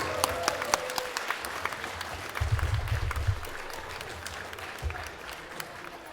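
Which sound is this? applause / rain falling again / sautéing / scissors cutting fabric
applause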